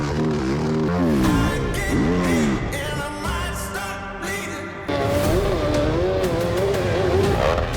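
A Buell 1190 motorcycle roars loud and close as it climbs a hill at a motoclimb race, the engine revving up and down in rising and falling sweeps and then pulling hard in a sustained high-rev scream.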